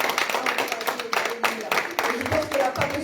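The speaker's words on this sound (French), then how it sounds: "Je pense qu'on peut l'applaudir." A church congregation gives a burst of applause during a worship service, with steady clapping that fills the room at moderate volume while a voice speaks over it.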